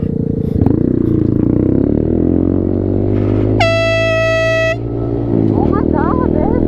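A boat air horn fitted to a motorcycle blasts one long, loud, steady note for about a second near the middle, over a constant rumbling engine, with voices talking around it.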